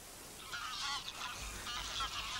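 Wild geese honking in the Volga delta, a flock calling in dense, overlapping honks at moderate distance, continuous and without speech.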